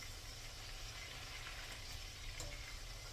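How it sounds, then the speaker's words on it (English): Steady bubbling sizzle of chicken gizzards deep frying in hot oil, a continuous close crackling hiss with no voices. "In the meantime, I'm deep frying me some as well."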